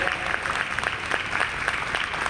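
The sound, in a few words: applause from the audience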